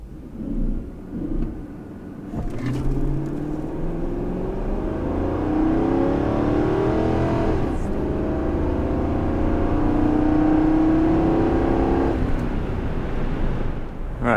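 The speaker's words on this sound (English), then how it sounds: "so here's run number 1 for the F-150" A Ford F-150 pickup accelerates hard from a standstill in a 0-60 run, engine rising in pitch through gear changes with a brief dip between shifts, loud and close throughout.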